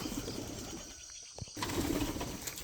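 Pigeons coo softly inside a pigeon coop, with low throaty calls, a brief flutter of wings and a quiet moment in the middle.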